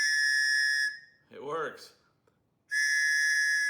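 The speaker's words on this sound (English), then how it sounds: "if you've ever had a tops knife, you know that they come with a whistle" A small plastic survival whistle supplied with a Tops knife blows two loud, sustained shrill blasts, with a brief spoken remark between them.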